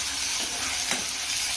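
Onion and curry leaves fry in hot oil, a steady loud sizzle with a few stirring scrapes, close by and without talk, cutting off abruptly at the end.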